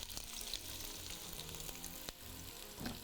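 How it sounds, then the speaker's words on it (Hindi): Finely chopped onions frying in a pan over high flame, a dense continuous sizzle with occasional soft stirring taps, faint and close with no voices. "प्याज डाल देते हैं"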